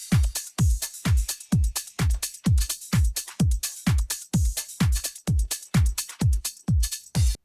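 A tech house drum top loop made from AI-generated drums has its kick lows cut, leaving crisp, bright hits that repeat in a fast, tight pattern of regular percussive transients, with dry gaps between the hits and no voices.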